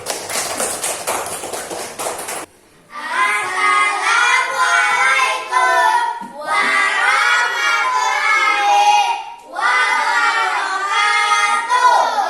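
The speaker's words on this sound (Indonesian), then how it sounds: "Tepuk tangan dulu." A classroom group of students applauds a presenting group in three sustained bursts of clapping mixed with excited shouting and cheering, after a short stretch of rapid tapping.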